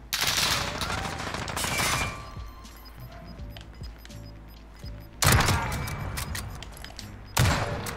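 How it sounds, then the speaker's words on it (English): Gunfire in a Modern Warfare Search and Destroy match, loud bursts of shots at the start and again near the end with quieter game ambience between, a voice briefly heard. "Shots."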